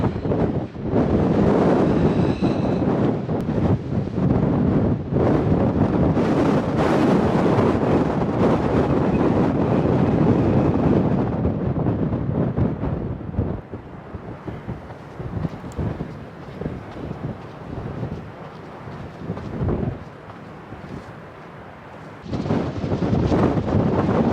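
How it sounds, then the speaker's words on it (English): Strong, steady wind buffets the microphone on a windy stretch of the Pacific Crest Trail, a loud continuous roar that eases briefly in the middle before rising again. "Starting to get into the windier areas again."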